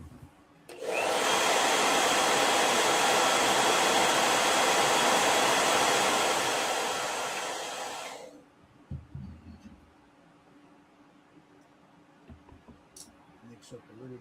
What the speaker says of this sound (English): Hit that with a blow dryer.